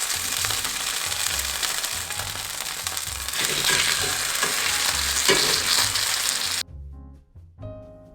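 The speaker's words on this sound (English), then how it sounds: "we're going to drop our fillets in there just to crisp up the skin" Salmon fillets with skin down in a hot pan sizzle and crackle loudly and continuously, then the frying cuts off sharply and returns as fainter spatters near the end.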